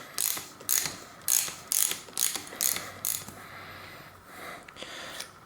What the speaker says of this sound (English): that's what I'm going to use, the 6-point socket. And then just unscrew these.